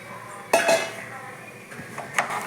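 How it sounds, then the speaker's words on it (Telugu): Chicken curry masala stirred in a pot, metal spoon scraping and clinking against the pot in a few distinct strokes over a low background hiss. "ఇలా బాగా కలుపుకుంటే అదంతా ముక్కలకు పట్టిద్దండి"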